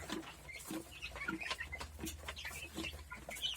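Hens and roosters in a coop with new chicks give a busy stream of short clucks and chirps, several birds calling close by in irregular bursts over a low background hum.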